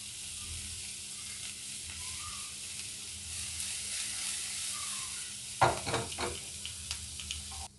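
Onions sautéing in a pan for an aloo paratha filling give a soft, steady sizzle, joined later by a few louder scraping stirs of a spatula against the pan, with nobody talking.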